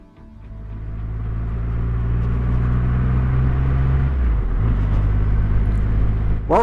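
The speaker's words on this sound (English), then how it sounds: "Welcome to the first ride on the Triumph Rocket 3R" A Triumph Rocket 3R motorcycle engine idling nearby: a deep, steady rumble that swells in the first second, then holds a constant low drone with a slight dip near the end.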